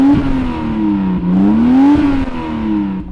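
Toyota Supra engine revving loudly and close by, the note swelling and falling in repeated blips before settling into a steady drone.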